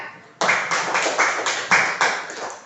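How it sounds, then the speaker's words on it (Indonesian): An elementary school class claps together in a quick, regular beat, about three claps per second, starting suddenly after a short quiet moment and carrying on steadily and close. "Tepuk tangan"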